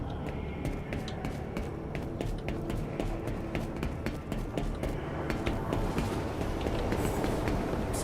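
A train carriage runs along the track in the video game Enginefall, a continuous rumbling roll with irregular rattling clicks and clacks layered over it, steady and fairly close throughout.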